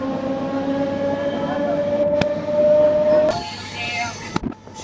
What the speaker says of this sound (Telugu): ఖమ్మం నుంచి మన ట్రైన్ బయలుదేరిపోయింది.